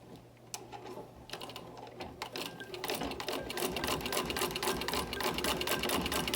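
A Singer 15-88 sewing machine stitches through a single layer of leather, a rapid, steady mechanical clatter of needle strokes that builds slightly in loudness and runs continuously close by, with no talking.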